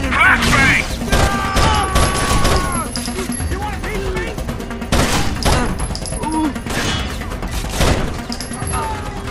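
In the Rainbow Six: Vegas video game, a flashbang grenade goes off amid a loud firefight, with sharp bursts of gunfire and booms close by under shouted squad voices.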